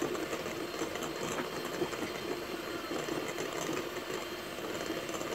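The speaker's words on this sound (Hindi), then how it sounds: "इसको इस वक्त आपने ज़्यादा तेज़ स्पीड नहीं रखनी है, हल्की स्पीड पे इसको बीट करना है।" An electric hand mixer runs steadily at low speed, beating walnut vanilla cake batter in a bowl with a continuous whirring motor buzz and no pauses.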